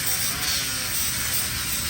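A power tool grinds continuously and loudly, cleaning down fresh welds, with a harsh steady whine and no pauses.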